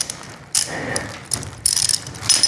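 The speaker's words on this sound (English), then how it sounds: "I'm going to be using a ratchet for this" Ratchet wrench with a 17mm socket tightening a lock-nut bolt during assembly of a Sekey 1000lb garden cart, giving bursts of quick clicking in short separate runs, close and moderately loud.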